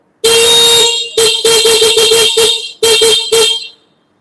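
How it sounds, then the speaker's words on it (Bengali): A loud, nearby motorbike horn beeps repeatedly: one long blast, then a string of short honks, a brief pause, and a few more quick beeps. "আমি আপনাদেরকে হর্ন বাজিয়ে দেখাচ্ছি"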